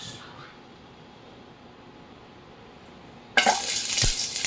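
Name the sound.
onions sautéing in pan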